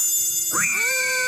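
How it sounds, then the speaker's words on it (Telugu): In a Doraemon cartoon, a cat gives one short, clear rising meow, close and alone. "ఇక్కడ చాలా క్యాట్స్ ఉన్నాయి."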